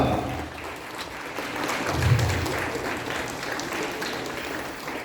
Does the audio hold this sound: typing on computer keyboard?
no